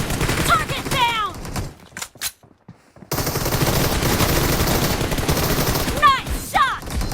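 Bursts of gunfire from the mobile game PUBG Mobile crackle loudly, interrupted by a brief near-silent gap, then resume as steady sustained shooting, with short in-game voice callouts over the firing.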